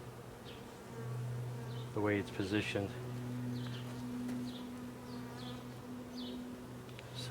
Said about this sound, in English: the remaining bees, I think, are having a difficult time getting out of that